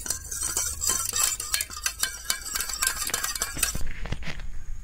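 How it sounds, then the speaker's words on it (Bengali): Agar agar is stirred with water in a separate bowl, a spoon clinking and scraping in quick, repeated strokes, close and fairly quiet. "এখানে আমি জল দিয়ে মিলাইয়া দিয়া আলাদা একটা বাটির মধ্যে জল দিয়ে মিলাইলাম"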